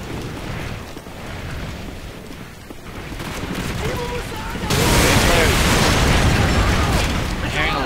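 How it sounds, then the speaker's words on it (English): Battlefield explosions in the Call of Duty 4 video game: a continuous barrage of booms and bursts that grows louder and denser partway through, with a rumbling, crackling wash throughout. "I'm hearing a lot of explosions."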